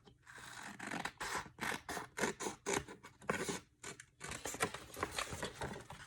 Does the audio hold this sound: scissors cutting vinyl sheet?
yes